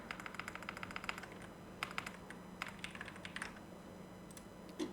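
Typing on a computer keyboard: rapid bursts of light key clicks in quick runs, with short pauses between them, over a low steady hum.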